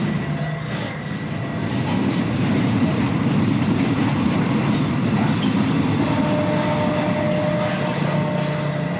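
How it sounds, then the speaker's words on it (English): A train rolls past near a small cafeteria in Chiang Mai, Thailand, a loud continuous rumble with rhythmic clatter of wheels on the rails that holds steady throughout. "you can see the train going by"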